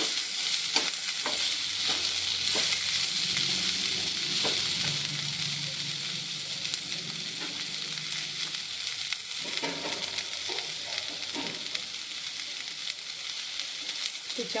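Cluster beans fry in hot oil with red chili powder in a pan, giving a steady, loud sizzle with occasional stirring scrapes throughout.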